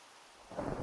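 Heavy rain with thunder, a low rumbling roar that swells in abruptly halfway through and stays loud and dense over a steady wash of rainfall.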